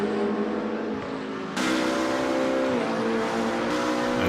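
Race cars compete at Bathurst, with several engines howling at high revs and shifting pitch as cars pass close by, loud and continuous, with a sudden jump in intensity partway through.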